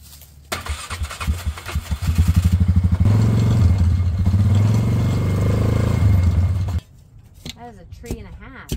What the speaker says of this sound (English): Got the four-wheeler hooked up and the winch is on it